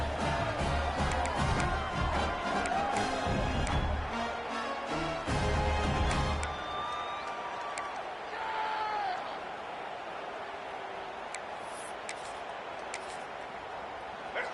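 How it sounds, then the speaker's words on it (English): A stadium crowd at a college football game roars loudly before a late two-point try, the cheering swelling then thinning into a lighter background murmur. "this crowd rises up to try to make it tough"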